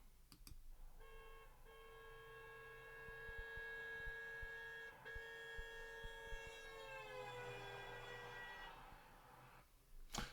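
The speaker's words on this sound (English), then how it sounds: "you may well be familiar with the experience of a vehicle making a noise, going past, and it approaches with a relatively high pitch" A passing vehicle's siren holds a steady tone, then slides lower as it goes by, a clear Doppler shift heard from a moderate distance over faint background clicks.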